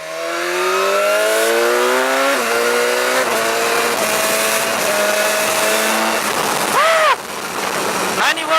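A BMW S1000XR motorcycle engine revs loudly and accelerates through several gears, its rising whine stepping down at each shift before climbing again, close and continuous, with a brief wind or road burst near the end.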